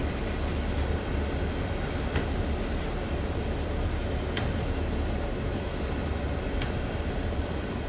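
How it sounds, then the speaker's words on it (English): A long freight train rolls steadily past in a snowy Clinchfield Railroad scene in Train Sim World 5, a constant loud rumble of wagons with occasional sharp metallic clanks and squeals, and no talking. "How much more of the train has to go by?"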